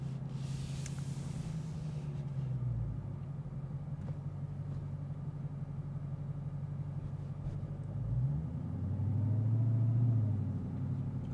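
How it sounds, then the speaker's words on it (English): A 2022 Dodge Challenger Super Stock rolls at low speed with a steady engine rumble. Near the end a deeper surge of engine and drivetrain sound follows as the car goes over speed bumps. "We're going to go over some speed bumps right here."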